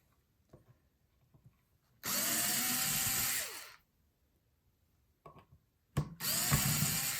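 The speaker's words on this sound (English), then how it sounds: "little hand kind of drill apparatus" Small hand drill whirring in two bursts of a couple of seconds each, backing screws out of a Squier Stratocaster, with light handling clicks between runs and no talking.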